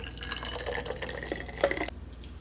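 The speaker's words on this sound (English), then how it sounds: "Step two, pour your milk into a container." Microwaved milk is poured into a container, giving a steady liquid trickle and splash for about two seconds, close and moderately loud, and then it stops.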